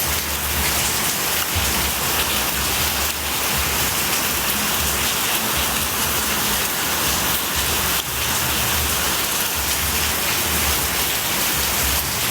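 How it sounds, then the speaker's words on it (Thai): Heavy rain drums constantly on a surface nearby, a thick unbroken roar of drops throughout, with no talking. "ฝนตกหนักฝนตกแรงฝนตกแรงขึ้นแล้ว"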